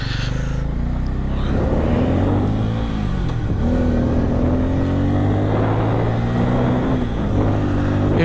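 Engine of a Bajaj Pulsar N250 motorcycle during a ride, a steady close drone that rises and falls with throttle changes, with wind noise and no talk.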